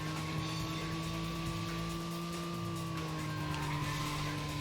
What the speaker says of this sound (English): A little bit of e-brake to get the back end of the car around.